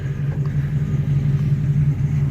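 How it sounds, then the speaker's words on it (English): A 2007 Dodge Ram Megacab SLT 4x4, lifted, idling through its dual exhaust with a steady, deep, moderately loud rumble, alone and close by. "Dual exhaust. It's not stupid loud, but it's got a good rumble."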